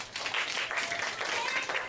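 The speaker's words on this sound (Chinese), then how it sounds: "给我掌声鼓下吧" An audience applauds at a science magic stunt show, a brief steady patter of many hands at moderate distance, with voices mixed in.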